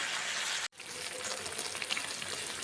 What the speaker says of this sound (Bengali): ভালোভাবে বেগুনটা আমি মিশিয়ে নিলাম